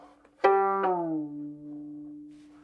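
Violin string being plucked while its tuning peg is turned: a single clear, ringing note whose pitch slides downward and then holds as it fades, with no talking.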